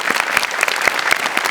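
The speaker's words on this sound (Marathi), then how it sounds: "वा, जोरदार टाळ्या." A studio audience at a Marathi comedy show claps in a brief, dense burst of applause, loud and continuous.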